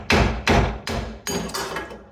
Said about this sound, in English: I'll just keep hitting it until it separates